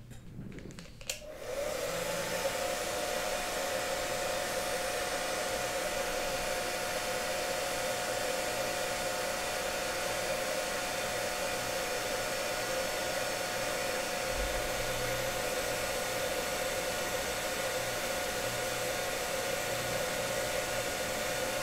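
A heat gun blows steadily on a reprolabel sticker being applied to a toy car wheel, a continuous close-up whoosh and hum that starts after a brief clatter and holds unbroken to the end.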